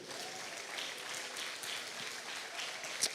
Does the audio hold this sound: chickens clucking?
no